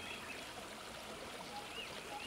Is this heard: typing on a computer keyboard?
no